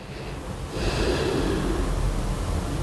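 A steady, audible breath during a neck yoga exercise, a soft airy inhale growing louder partway through and sustained, close and alone without talk.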